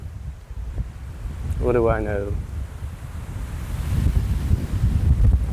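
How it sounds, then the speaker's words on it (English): Outdoor wind buffets the microphone with low rumbling gusts that build toward the end, while someone speaks briefly near the start. "It's a little windy out today"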